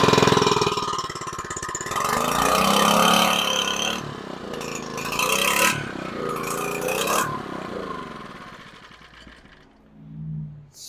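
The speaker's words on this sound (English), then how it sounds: "Carb's not running right, but it's definitely pumping." Small Harbor Freight Predator gasoline trash pump engine with a poorly running carburetor, a loud close uneven drone that surges and sags in pitch, cuts out briefly several times, then fades toward the end.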